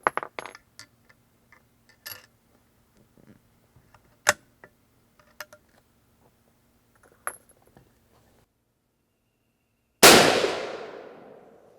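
A single loud, sharp gunshot from a .32-40 Winchester falling block rifle cracks out near the end and rings off in a long decaying tail, preceded by quiet clicks and metallic handling of the action and brass.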